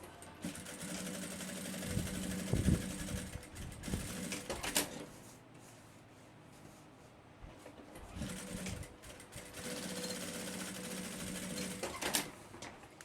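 A sewing machine stitches the end of a backpack seam in quiet close-up, running in short bursts separated by pauses.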